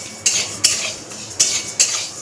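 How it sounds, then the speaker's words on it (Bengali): Moong dal being fried in a pan, with four sharp scraping strokes of a utensil against the pan at an uneven pace over a quiet background, and no talking. "তো এইখানে এখন আমি এই মুগের ডালটা ভাজছি"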